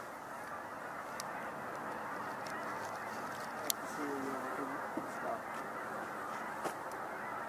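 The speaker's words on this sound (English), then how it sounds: "You see the geese that are coming in now, right?" A distant flock of geese honking over a steady outdoor background hiss, faint calls that rise briefly near the middle and then trail off.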